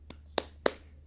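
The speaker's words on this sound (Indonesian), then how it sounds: "marilah kita tepuk semangat ya, agar kita tambah semangat dalam belajar ya" Three sharp hand claps in a classroom, a quick single clap followed by two louder ones spaced evenly apart, faint and close, with no talking over them.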